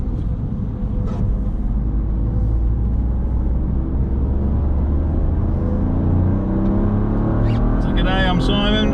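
A Toyota GR Yaris pulls out of the pits at a wet Nurburgring, heard from inside as a loud, steady low engine drone and road rumble, with a rising note near the end.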